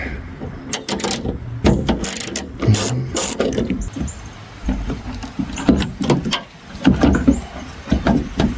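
A ratchet with a 10 mm socket turns loose fasteners on a Mitsubishi Lancer tail light, giving close, loud, rapid clicking runs in repeated bursts with brief pauses, plus a few metallic knocks and squeaks.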